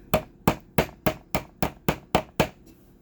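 A nail pounded into a wood block with a makeshift object instead of a hammer, nine sharp, evenly spaced knocks ringing out close and loud at a steady pace, with no talking.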